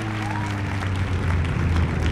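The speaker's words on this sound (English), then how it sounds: "You don't have to clap, it's okay." An audience applauds at the close of a weekend update show, a dense steady wash of clapping lasting a couple of seconds, with a low tonal hum running beneath it.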